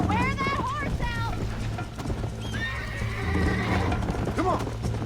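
Horse whinnying and clip-clopping hooves in the video game Red Dead Redemption, a loud neigh at the start and another later, over steady hoofbeats and a low background rumble, with a voice talking over parts of it.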